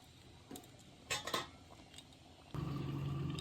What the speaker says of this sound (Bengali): ভালো করে নাড়াচাড়া করে দিলাম।